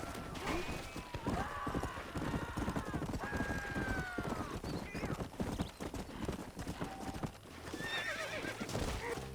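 Horses in Red Dead Redemption 2 neigh and whinny several times over a continuous clatter of clip-clopping hooves, close and loud, with faint game voices underneath.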